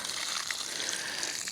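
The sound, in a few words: watering a newly planted tree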